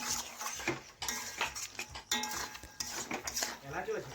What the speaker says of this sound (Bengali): এখন লবণটা নাড়াচাড়া করে ভালোভাবে মিশিয়ে নিচ্ছি